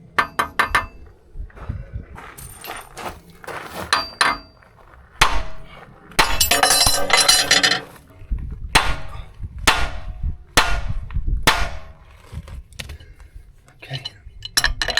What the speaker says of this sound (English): So now I'll just try and persuade it a little bit with a hammer.